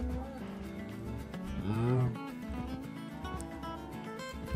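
Cows mooing in Minecraft, a few drawn-out game moos rising over a steady background of other farm animal noises, fairly loud and with no talking.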